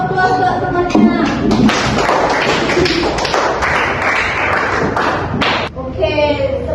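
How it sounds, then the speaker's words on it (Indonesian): Children in a classroom applaud a classmate, a dense burst of uneven clapping and tapping that runs for several seconds before fading, with faint voices mixed in. "Beri dulu aplaus temannya."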